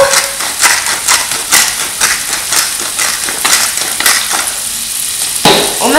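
Salmon frying in a pan while being stirred, loud continuous sizzling with repeated scraping strokes from the utensil, close and steady throughout.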